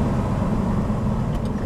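Audi V8 in a Spyker C8 supercar, heard from the cockpit as a steady, loud engine drone with cold air rushing into its intake, no change in pitch.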